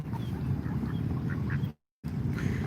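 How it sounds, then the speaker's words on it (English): Ducks quack repeatedly and loudly nearby, outdoors in Washington DC, with a brief silent gap partway through. "We got a very vocal land duck."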